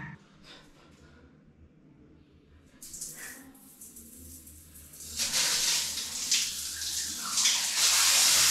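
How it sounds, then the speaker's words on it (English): Cold shower water runs, starting as a faint trickle and swelling after a few seconds into a loud, steady hiss of spray that continues to the end. "Day 1 cold shower."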